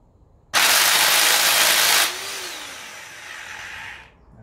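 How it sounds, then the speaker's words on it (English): Electric impact wrench loosening a bolt on a BMW E30 subframe, a loud sustained whirring hammer burst for about a second and a half, then a lower winding-down spin that fades out. "a big impact wrench kind of electric thing"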